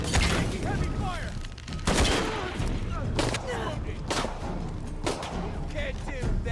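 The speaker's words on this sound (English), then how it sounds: "Heavy fire." Heavy gunfire in Shadow of the Tomb Raider: repeated loud bursts of shots and booms crack through the whole stretch, with a voice speaking briefly among them.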